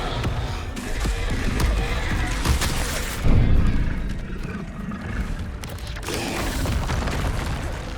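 Spell combat in Hogwarts Legacy: steady magical whooshes and booming impacts, with a heavier blast partway through, loud and busy over continuous game noise.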